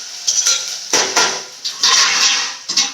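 Water splashes and rushes in several uneven bursts into a pan of rice upma, with clattering like a pot or vessel being filled and tipped, close by and fairly loud.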